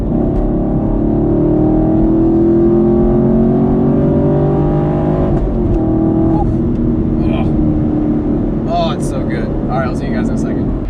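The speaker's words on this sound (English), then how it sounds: "let's drop it down a couple gears and really go after it" A Chevrolet Camaro 1LE engine drones steadily and loud for the whole stretch, dropping a couple of gears and pulling hard, with faint chirps and clicks late on.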